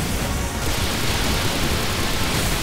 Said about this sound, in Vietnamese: Ít ra thì mình cũng tạo ra được trời mưa.